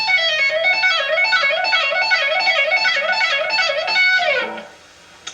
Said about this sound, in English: you could also do hammer-ons and pull-offs